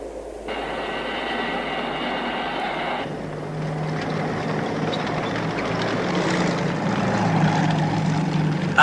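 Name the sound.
aircraft engine running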